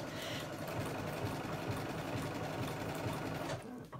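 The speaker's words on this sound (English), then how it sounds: "let the embroidery machine do this." An embroidery machine stitches an appliqué with a fast, steady, close mechanical whir and rhythmic needle chatter, running continuously before slowing toward the end.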